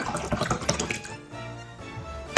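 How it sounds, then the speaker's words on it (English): Water runs from a tap and splashes into a mug, then the flow lightens to a thinner trickle before a brief clunk at the end. "Add some water to your mug."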